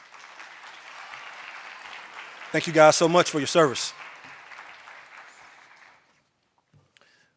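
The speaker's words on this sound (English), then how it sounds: "Can we give them a round of applause?" Applause from a graduation ceremony audience for a pianist and flutist, moderate and steady for about six seconds, with a voice briefly speaking over it partway through before it fades out.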